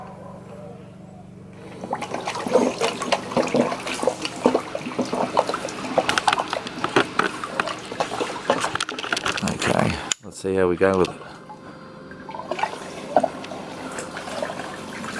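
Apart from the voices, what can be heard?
12 volt portable pulsator gemstone jig running with water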